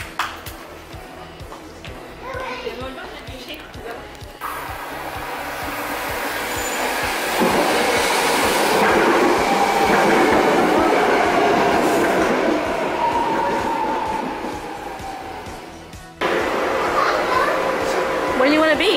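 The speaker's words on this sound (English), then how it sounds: "Here comes the train!" A BART train rumbles into the station and grows louder as it pulls alongside, with a metallic screech from the wheels, while people chat nearby.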